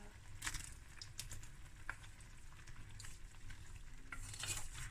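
Pasta being stirred into a creamy roux-based sauce for haddock pasta, a quiet continuous bubbling sizzle with soft scraping and stirring sounds over the whole stretch.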